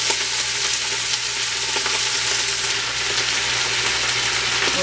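Collard greens frying in a hot pot give a loud, steady sizzle with crackling pops, continuous and close throughout, with no talking.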